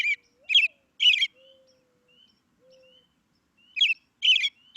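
An American robin sings bright, whistled phrases in two bursts, a few quick caroling notes each, with a faint low whistle between; clear and fairly close.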